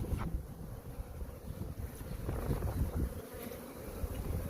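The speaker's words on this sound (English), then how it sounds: "A lot of bees." Dense, steady buzzing of many honeybees close around, a continuous droning hum with individual bees passing near, no talking.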